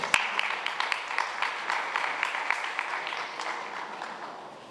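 A crowd at a ceremony applauding a chargé d'affaires: a sustained burst of many hands clapping, starting with a sharp crack and continuing at moderate loudness, slowly easing toward the end.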